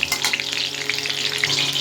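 Oil sizzles steadily as potato and pointed gourd fry in a pan, with soft scraping and stirring clicks over the continuous crackle.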